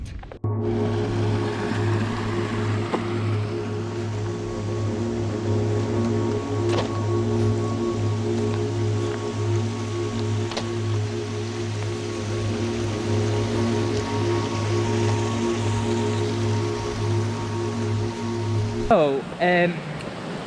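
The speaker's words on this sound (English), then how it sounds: "what you've just seen is the overflow from the mine in Hay Hall, because the mine used to fill with water and that pumps the water back out the mine" Water overflowing from an old flooded mine at Hay Hall, pumped back out and pouring steadily, a continuous close rushing wash with a constant low hum, ending in a brief rustle.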